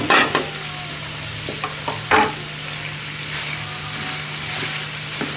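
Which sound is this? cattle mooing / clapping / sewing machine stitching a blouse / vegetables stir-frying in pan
vegetables stir-frying in pan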